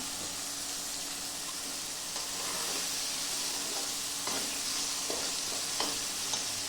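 Sizzling oil in a pan as something is stirred and mixed through it over lowered heat, a steady frying hiss with scattered scraping stir sounds, fairly close and without talk.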